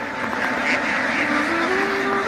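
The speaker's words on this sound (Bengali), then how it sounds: "দেখুন কত হাঁস, হাঁসের জগতে আমি চলে এসেছি।" A large flock of ducks at a poultry farm, a dense loud chorus of overlapping quacks filling the air continuously, close by and with no distinct talk.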